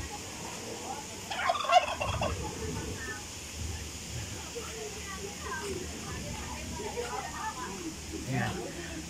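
Turkeys gobble in a loud burst partway through, with another shorter gobble near the end, over outdoor background noise and some talking nearby at a farm resort.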